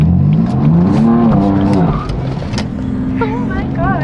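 A Trackhawk sports SUV peels its tires, a loud, close engine roar running throughout with wavering tire squeal rising near the end, while voices talk over it.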